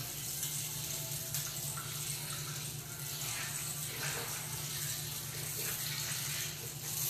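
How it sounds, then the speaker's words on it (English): Liquid pours steadily into a pressure cooker in a home kitchen, making a continuous, even splash and trickle for several seconds at moderate distance, with no voices over it. "I'm just gonna add the liquids because you wanna make sure that whenever you are pressure cooking, the liquids cover whatever food that you are cooking"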